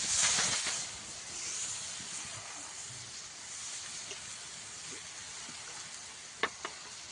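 Water poured beside a hot pan on a village wood-fired chulha, where dhapate flatbread is cooking, gives a steady close hiss that is strongest at the start, with a couple of small sharp clicks near the end.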